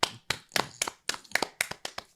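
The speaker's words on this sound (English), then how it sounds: "Clap it up for y'all." Hand claps from a couple of people on a casual reaction show, about nine sharp, separate claps in a quick, slightly uneven rhythm, close and dry, with no talking over them.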